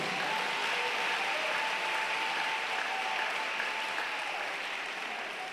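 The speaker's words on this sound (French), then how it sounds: "Bye bon Dieu, applaudissements." Steady applause from a church congregation, sustained and even for the whole stretch, heard at a moderate distance with a faint tone running beneath it.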